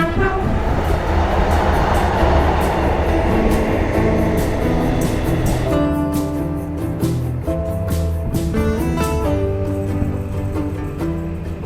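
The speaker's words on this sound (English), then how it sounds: "And this one's a commuter train." A commuter train rumbles past close by, a steady heavy roar with rhythmic clattering that shifts in tone partway through, continuing loudly throughout with no voices.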